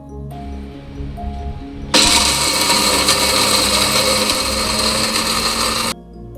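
A mixer grinder's small jar grinds roasted ingredients with cardamom powder for kulfi, starting as a sudden loud, steady whir after a quieter hum and running about four seconds before cutting off abruptly.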